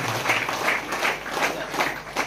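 A congregation at a prayer centre claps loudly in thanks to Jesus, a brief burst of rhythmic group applause in a few pulsing waves.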